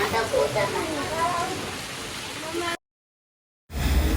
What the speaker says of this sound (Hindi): और बारिश देखो गाइज, अभी भी बारिश आ रही है